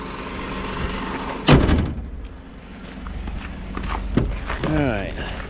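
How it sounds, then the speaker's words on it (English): Passenger door of a 2011 Ford F-150 pickup opened with a single sharp thunk and latch click, followed by quieter handling sounds. "then I'll go over to the passenger door, open it up"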